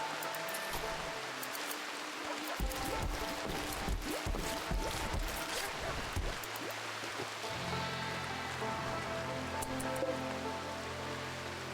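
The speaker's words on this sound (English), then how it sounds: "So it's raining right now." Steady rain falls in the video game Rimworld, a dense, even hiss with scattered patters that runs throughout, joined by low rumbling tones partway through.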